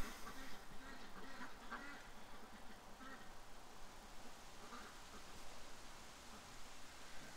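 Ducks in a backyard give faint, scattered quacks through a steady hiss of outdoor noise, with muffled voices somewhere in the background.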